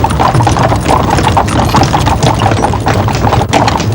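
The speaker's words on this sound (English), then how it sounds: "For shorter distances, however, there were the horse buses" Hooves of a horse-drawn bus clip-clop steadily on an old London road, loud and close, mixed with a continuous rumble of street traffic.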